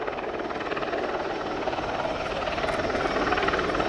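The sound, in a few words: Apache gunship helicopter at an air show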